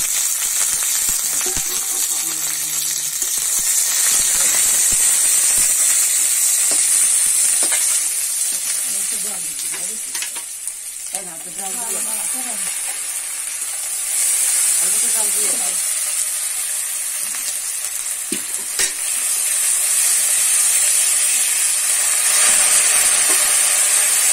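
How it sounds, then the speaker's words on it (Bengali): Onion sizzling steadily in hot oil over a tempering of cumin seeds and two dried red chillies, a continuous broad hiss with occasional stirring scrapes and faint clinks near the pan. "এবার পেঁয়াজটা দিচ্ছি, একটু ভাজা ভাজা করে নিই"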